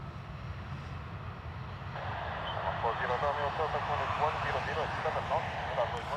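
An airliner on flight EI 406 to Rome at Dublin Airport rumbles from a distance, its engine roar swelling and holding steady.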